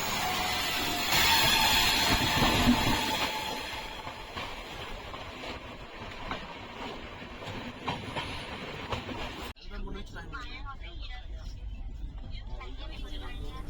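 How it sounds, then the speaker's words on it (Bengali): A passenger train travelling from Kolkata to Jammu rumbles along the rails, loud at first and then steadier, with an abrupt shift near the end to a quieter carriage interior. "আমাদের ট্রেন তাকে ক্রস করে এগিয়ে চলল তার নিজের গন্তব্যে"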